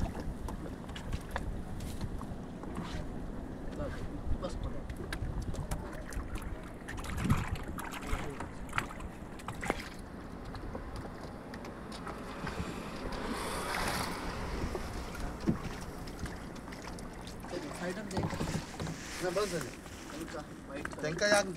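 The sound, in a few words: kayak boat on the Chivla river, Malvan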